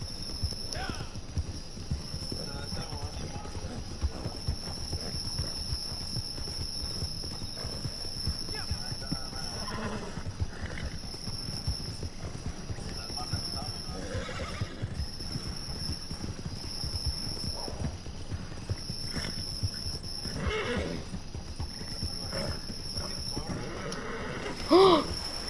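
In a video game, a horse's hooves clip-clop in a steady, fairly quiet rhythm while it neighs now and then, with players talking over it throughout.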